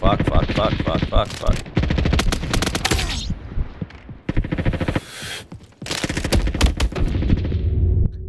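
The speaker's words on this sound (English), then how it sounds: "I'm just getting shot by everyone." Automatic gunfire in a Roblox first-person shooter, loud sustained bursts of rapid shots with brief gaps between volleys, close and intense throughout.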